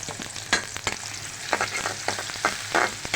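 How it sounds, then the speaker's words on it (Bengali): Onion fries in oil in the same pan used for eggs, a close, continuous sizzle punctuated by repeated scraping strokes of a spatula stirring at an uneven rhythm. "পেঁয়াজটা ভালো করে ভেজে নেব নরম করে ভেজে নিছি"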